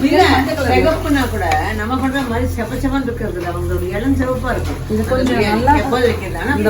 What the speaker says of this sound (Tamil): வாசனை நல்ல ஃப்ளேவர் வர வரைக்கும் வதக்கணுங்க